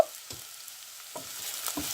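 Spices tempering in hot oil for a Sri Lankan-style drumstick and jackfruit seed curry, giving a steady close sizzle with a few brief louder crackling bursts across two seconds.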